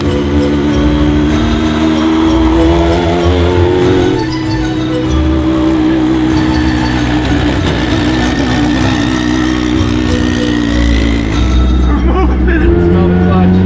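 Turbocharged mini truck engine running under load while towing a wakeboard boat, a loud continuous droning hum with shifting harmonics, heard over voices talking inside the cab.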